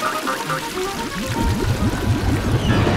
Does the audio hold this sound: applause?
no